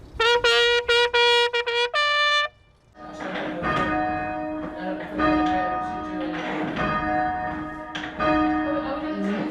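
Church bells ring in a clear harmonic sequence for the coronation of King Charles III, a few bright strikes at first, then a fuller overlapping peal with sustained ringing tones.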